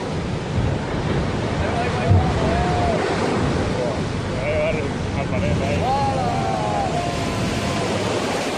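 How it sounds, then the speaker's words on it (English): Massive autumn ocean waves at San Sebastian roar as a continuous broad surf wash with heavy wind buffeting the microphone, while a person talks over it and faint tonal calls rise briefly. "Have you ever seen waves this massive?"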